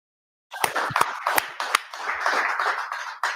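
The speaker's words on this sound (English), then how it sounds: "With that, I want to clap it up." Audience applause breaks out after a lone opening clap at a religious scripture class in Charlotte, North Carolina, starting with a few sharp separate claps and swelling into steady, dense clapping from a crowd, fairly close and loud with no talk.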